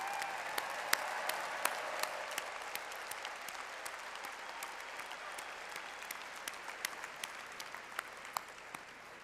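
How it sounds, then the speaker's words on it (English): Graduates at a university fall commencement ceremony applaud their parents and families, a steady wash of clapping from a large crowd with sharp individual claps standing out, moderately distant and sustained. "give them a round of applause."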